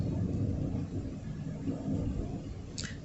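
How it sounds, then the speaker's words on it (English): A thunderstorm produces a steady, low rolling rumble of thunder that fills the whole stretch, moderately loud and continuous, with a brief higher crackle near the end. "We're having a nice little thunderstorm right now."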